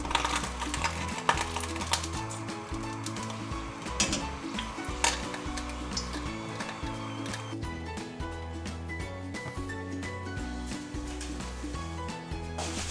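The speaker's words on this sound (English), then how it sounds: "Gently press each donut to ensure each side of the donut are fried evenly." Homemade donuts sizzle and crackle in hot frying oil, a steady moderate bubbling with scattered sharper pops and clicks of a utensil throughout.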